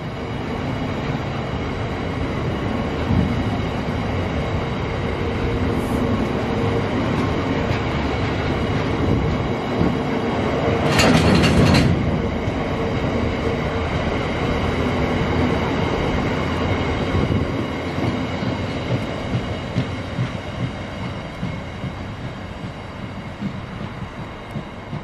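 A long freight train rolls past on the line between Norwich and King's Lynn, a steady rumble of wagons with rhythmic clattering and a brief loud squeal midway, no voices over it.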